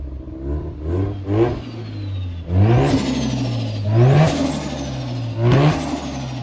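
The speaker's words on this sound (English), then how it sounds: "Then we'll get that turbo compressor surge." A Mazda FC RX-7 engine revs up repeatedly, and each rev ends in a rising whine and a fluttering, chattering turbo compressor surge release of air.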